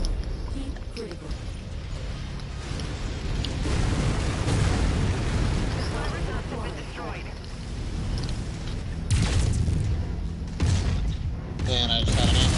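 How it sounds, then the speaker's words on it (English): An ammunition explosion rips through a mech in the Mechwarrior 5 video game, heavy rumbling booms and crackling blasts layered over dense battle noise, with a voice speaking at times. "And I just had an ammo explosion."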